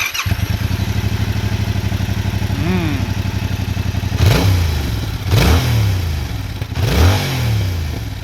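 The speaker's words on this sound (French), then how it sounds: "mets-la nous en route et on va écouter la tristesse de ces normes Euro 5" A Yamaha R7 with its stock Euro 5 exhaust fires up and settles into a steady, fairly loud idle, then is blipped in three sharp revs that rise and fall back to idle.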